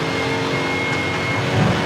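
A steady, loud engine drone holds at high revs throughout, a continuous rally-car hum in fourth gear in the video game V-Rally 4 that barely dips.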